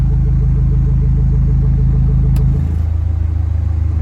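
A deep, loud exhaust rumble from an idling all-wheel-drive Honda Integra, throbbing steadily with the exhaust valve open, then dropping to a quieter, softer pulse once the valve closes.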